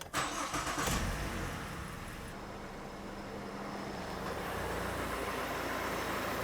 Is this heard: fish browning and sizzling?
no